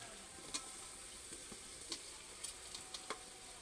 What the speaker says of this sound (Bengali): এখন ভেজে রাখা কচু আর আলু দিয়ে দেবো